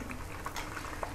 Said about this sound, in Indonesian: saya goreng udangnya meletup